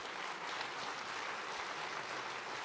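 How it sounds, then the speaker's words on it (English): Audience applause at a 2023 Ottawa commissioners election debate, a steady, even wash of clapping at moderate volume lasting the whole short stretch. "can we give them one more round of applause for being up here tonight?"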